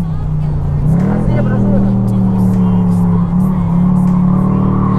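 A Chevrolet Camaro convertible, all original, running at top speed on a track: a loud, steady engine drone rising in pitch as it accelerates, holding high with brief shifts, close and continuous.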